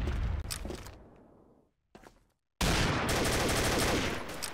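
Loud gunfire bursts from the shooter game Combat Arms erupt in heavy rapid volleys, cut off by a brief silence and a short burst before another sustained barrage.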